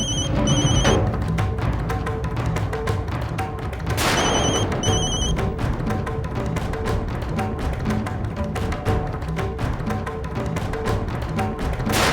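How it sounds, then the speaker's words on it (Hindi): A telephone rings in a domestic drama scene, sounding as two bursts of a repeating electronic ringtone roughly four seconds apart over a busy background. "तुम्हारे मानव का ही फोन होगा"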